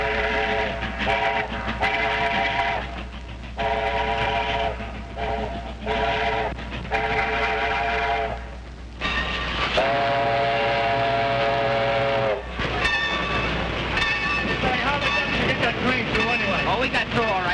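A train runs close by with a steady rumble while its whistle blows in repeated long, loud blasts. Voices come and go over the noise.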